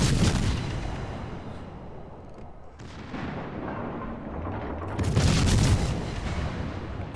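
Main guns of the Mainz warship firing in a naval battle video game: heavy booming salvos with long rumbling tails, one at the start and another louder blast later, over constant low background noise.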